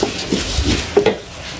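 Green chillies fry briefly with rice in a pan for jhal biryani, a short burst of sizzle with a few scraping stir sounds and a utensil clink, close and fairly loud.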